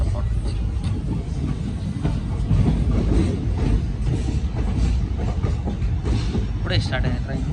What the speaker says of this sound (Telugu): ఇప్పుడే స్టార్ట్ అయింది ట్రైన్ బార్మేర్ రైల్వే స్టేషన్ నుంచి